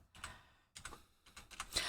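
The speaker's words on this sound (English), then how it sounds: "I am typing with one finger" Someone types on a computer keyboard with one finger, producing sparse clusters of soft clicking keystrokes separated by short pauses, close and quiet with no talking.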